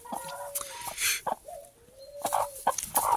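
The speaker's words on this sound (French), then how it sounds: "Madame la poule." A hen clucks close by in a run of drawn-out, murmuring calls broken by sharper clucks and some rustling, with no talking.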